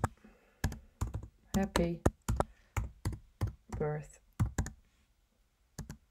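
Bursts of computer keyboard typing while a card message is entered, a quick run of distinct key clicks in short groups, close and clear, with a voice speaking between them.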